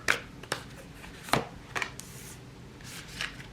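Tarot cards are shuffled by hand in soft bursts, a few quick riffling and sliding swishes spaced irregularly, fairly quiet and close, with no talk.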